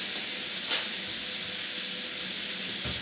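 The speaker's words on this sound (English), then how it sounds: "Got some nice soapy water in the sink." Soapy water pouring steadily into a kitchen sink, a constant close hissing splash with no pauses.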